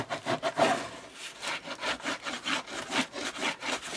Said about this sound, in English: I'm going to flip this over and we're going to burnish this